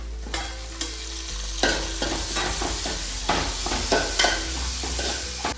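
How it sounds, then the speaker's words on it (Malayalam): Grated coconut roasting slowly over a low flame in a pan makes a continuous dry sizzle, with repeated scraping and stirring strokes from a utensil on the pan surface at an irregular pace. "തേങ്ങ വറുക്കുമ്പോൾ ചെറിയ തീയിൽ വെച്ചാൽ നമുക്ക് മെല്ലനെ വറുത്തെടുക്കാം"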